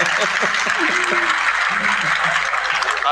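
Applause and scattered laughter from an audience at a live stand-up comedy show, a steady crowd clapping lasting about three seconds, with a comedian's voice heard briefly over it at the start.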